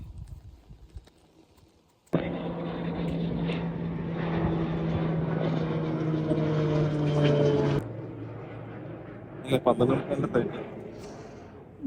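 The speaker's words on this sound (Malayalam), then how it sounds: "12:45 ഫ്ലൈറ്റ് പോയത്. നമുക്കിവിടെ അടുത്താണ് എയർപോർട്ട്." A loud aircraft engine roars overhead for several seconds near an airport and then cuts off, with people talking nearby.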